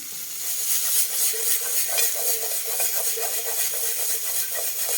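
Gobi manchurian stirred in a pan with chilli sauce and hot ketchup, a steady close sizzle and hiss overlaid with quick repeated scraping strokes of a spoon, no one speaking.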